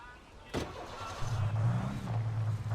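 A car engine starting up in the video game Alan Wake, a sharp burst followed by a low steady idle rumble that settles in and runs to the end.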